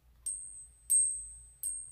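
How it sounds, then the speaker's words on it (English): A small bell crafted from 1980s and 1990s quarters, with a clapper punched from a quarter's center, rings three times, each a bright, sustained metallic ding that lingers, close and clear in a quiet room. "They're bells made out of quarters."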